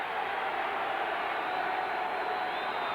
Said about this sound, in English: The defensive players are asking the crowd to quiet down.